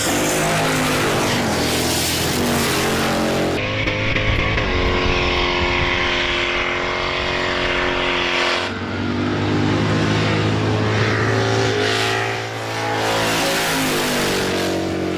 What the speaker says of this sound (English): they'll be side by side, racing while doing a burnout